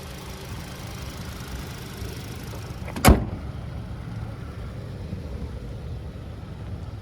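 A Hyundai Tucson N Line's 2.5-liter Smartstream four-cylinder idles with a low, steady hum, cut midway by one sharp, loud mechanical clunk like a door shutting, then the quieter idle carries on.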